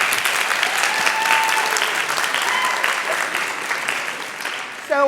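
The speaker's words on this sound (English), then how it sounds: "A round of applause for Dr." An indoor audience applauds at a leadership lecture as a speaker is introduced. The clapping is dense, steady and close, fades near the end, and a voice comes in just as it stops.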